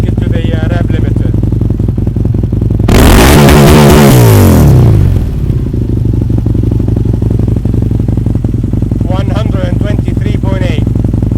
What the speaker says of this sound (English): Just for argument's sake, let's take it to the rev limiter.